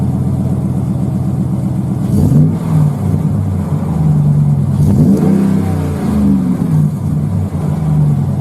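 A Ram 1500 Rebel pickup with a Magnaflow Street Series aftermarket exhaust rumbles deeply and steadily, then revs up twice with a throaty exhaust note that swells and falls back to idle.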